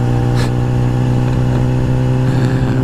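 A 2014 BMW S1000RR HP4 motorcycle rides on a highway, its engine holding a steady loud drone close up with a brief rise in pitch, wind roar constant underneath.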